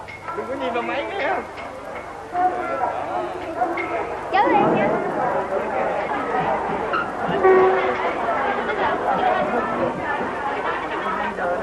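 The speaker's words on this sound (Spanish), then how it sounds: "El ferrocarril de la unificación une la ciudad de Ho Chi Minh con Hanoi." A train on Vietnam's Reunification Railway, the line linking Ho Chi Minh City and Hanoi, rumbles steadily with a possible horn, while a crowd's chatter and voices carry over it throughout.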